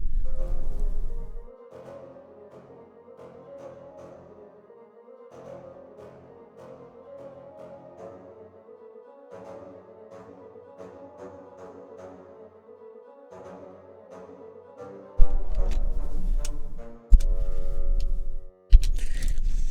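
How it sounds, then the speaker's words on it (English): Orchestral bassoons play short, detached staccato notes in a bouncy pattern, fairly soft, before a louder, fuller orchestral passage takes over near the end. "let's take a listen to the bassoons now"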